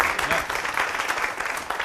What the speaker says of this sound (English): these guys need to be applauded for the fact that they are in school here